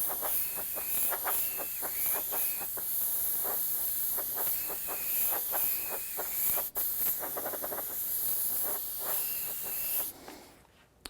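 An airbrush sprays candy red paint in a steady hiss, broken by a rhythmic run of short clicking pulses from the trigger, near and alone before it tapers off at the end.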